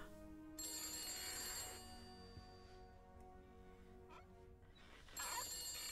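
A telephone rings inside a horror video game, with a bright repeating bell tone in two bursts separated by a quieter stretch of low ambient game sound.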